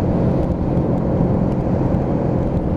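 Keeway K-Lite 125cc motorcycle ridden on urban roads: a steady, loud, close engine drone mixed with rushing wind, continuous throughout, with no voices.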